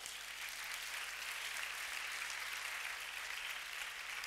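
A church congregation at a Sunday service applauds together: a faint, steady wash of clapping that runs evenly from start to finish, with no voices standing out.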